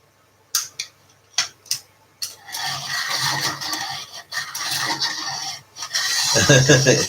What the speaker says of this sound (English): Just using the hand crank sharpener.